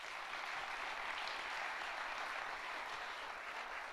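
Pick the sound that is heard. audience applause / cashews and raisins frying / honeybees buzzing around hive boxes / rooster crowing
audience applause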